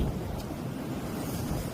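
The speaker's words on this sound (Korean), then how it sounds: "야 진짜 바람이 너무 세요" Loud, blustery winter wind roars steadily into the microphone on the Yeongdeok coast at about -6°C, with rough surf churning underneath the whole time.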